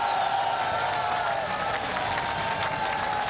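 A political rally crowd in Chichawatni claps steadily, a thick, even wash of applause with faint cheering running unbroken throughout.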